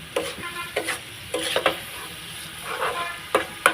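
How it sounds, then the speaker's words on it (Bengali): Tamarind pickle mixture with turmeric and salt frying in a pan, a soft steady sizzle broken by repeated close scraping stirs of a spoon, with no voices. "এই যে হালকা হালকা করে ভেজে নিচ্ছি"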